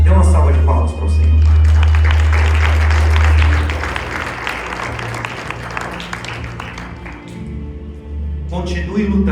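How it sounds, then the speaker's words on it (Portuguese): Church congregation clapping and cheering in praise, a broad wash of crowd noise and applause over a low hum, easing after a few seconds, with voices calling out over it. "Dê uma salva de palmas para o Senhor."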